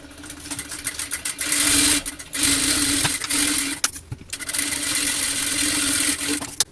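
Sewing machine double-stitching along the neckline of a small child's dress, a rapid mechanical whirring and clatter in several close bursts separated by brief pauses.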